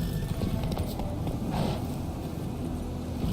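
Geralt's horse Roach gallops in The Witcher 3 with a steady, close clip-clop of hooves under continuous loud outdoor game ambience.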